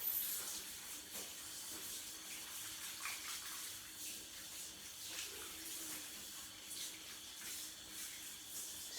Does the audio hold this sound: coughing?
no